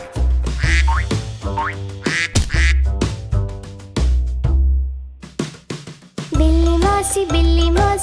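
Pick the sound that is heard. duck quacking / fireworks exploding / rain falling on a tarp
duck quacking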